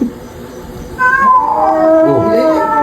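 A cat gives one drawn-out, wavering meow, loud and close, rising and then sliding down in pitch over a couple of seconds.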